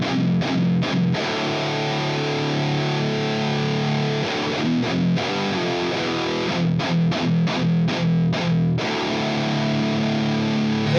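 A headless electric guitar plays with a delay effect and heavy distortion, giving a continuous, thick, loud riff with repeating echoes and no voices.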